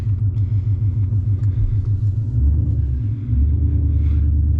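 A 2025 Whippled supercharged Mustang GT drives with the windows down, giving a loud, close, throbbing low rumble with a fast pulsing beat that deepens and swells partway through, then holds steady; no voices.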